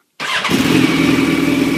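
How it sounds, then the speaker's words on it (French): A motorcycle engine starts up close by after a brief silence, catching quickly and then settling into a steady, loud idle with a throbbing low rumble and no talking over it. "Alors, première chose, je démarre la moto."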